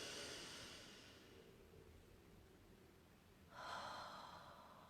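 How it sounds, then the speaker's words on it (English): Quiet, close breathing: a long airy exhale fades out, a pause, then another soft breath rushes in, with faint background hiss. "Breathing into 4, hold for 4 and blow out for 4."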